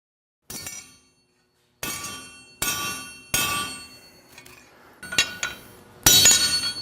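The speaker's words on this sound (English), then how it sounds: "That's a damn heavy hammer. It's supposed to be, because this is a heavy stainless." Several sharp metallic strikes of a heavy hammer on heavy stainless steel, each ringing out and decaying, spaced unevenly with pauses, the last one brightest and loudest.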